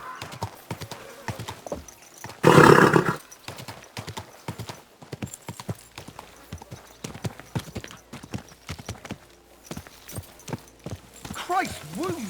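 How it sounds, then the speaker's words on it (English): Horse hooves clip-clop in a steady rhythm throughout in Kingdom Come Deliverance 2, with a sharp loud burst and a short whinny near the end, while voices talk over the game sounds. "Watch out with that horse!"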